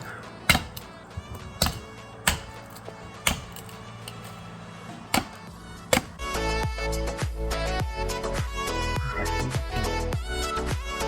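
A blade strikes a tender coconut about seven times in sharp, separate, loud chops, then a denser run of quicker knocks follows over a steady background.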